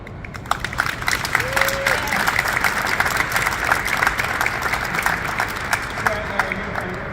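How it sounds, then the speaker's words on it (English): A crowd at an anti-gun-violence press conference applauds a youth speaker, dense steady clapping from a room of people that continues throughout, with a few brief voices mixed in. "I think we all owe her a round of applause"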